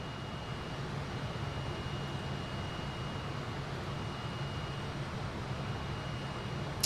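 A PC-24 jet in Microsoft Flight Simulator 2024 gives a steady, faint broadband engine rumble and hiss that drones evenly throughout with no variation.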